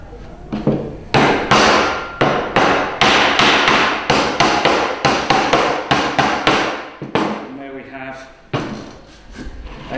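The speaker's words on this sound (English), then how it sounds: "put that on the edge of the workbench, give them a little tap so they don't jump out" Hammer taps on pieces of wood set at the edge of a workbench while building a bird box, a rapid series of sharp, loud knocks that goes on for several seconds, with a voice talking in between.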